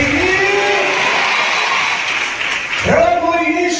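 A church congregation claps during Christian worship, a sustained burst of applause blended with loud voices calling out together, then fading as a single voice rises at the end.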